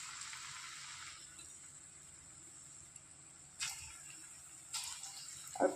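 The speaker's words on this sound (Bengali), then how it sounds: "এদিকে তেল গরম হয়ে গেছে, এক এক করে বড়াগুলো ভেজে নেব।" Lentil fritters fry one by one in hot oil over low heat, giving a faint, steady hiss broken by a couple of brief, louder crackles toward the end.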